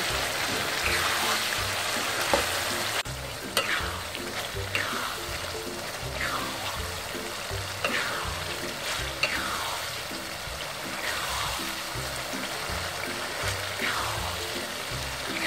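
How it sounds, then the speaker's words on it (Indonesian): Fried jackfruit is stir-fried with cooked chili in a pan, giving a steady, close sizzle with periodic scraping strokes of the spatula in a regular rhythm and no talking. "nangka yang sudah saya goreng tadi akan saya campurkan dengan cabai yang sudah kita masak"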